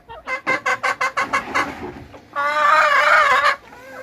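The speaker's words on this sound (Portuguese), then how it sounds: "Aqui estou mostrando aqui as minhas galinhas, ó." Chickens cluck in an orchard, a rhythmic run of about a dozen sharp clucks, then a rooster lets out a long, loud crow nearby, with no talking.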